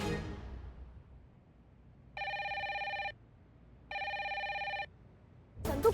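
A telephone rings unanswered with two long electronic ring bursts separated by a short pause, heard clearly over a quiet room, followed by a sudden louder noise at the end.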